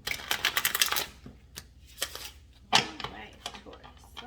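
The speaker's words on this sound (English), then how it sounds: "Doesn't hurt to shuffle again." Rapid papery riffling of a tarot card deck being shuffled, a burst of quick flutters followed by a few softer taps and slides, close to the microphone.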